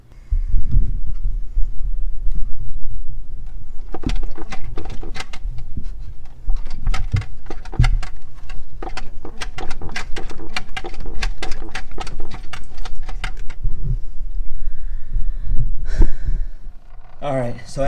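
A Marineland 220 canister filter is primed by hand, with a long run of rhythmic squeaky pumping strokes, close and loud, under heavy breathing and low rumble.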